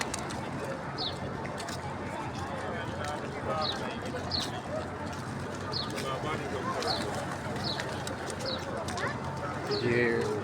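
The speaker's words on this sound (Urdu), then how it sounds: "ماشاءاللہ یہ کبوتر ہیں" Pigeons coo softly among scattered chirps over a busy outdoor background with people talking nearby, at Masjid Ghamama in Madina.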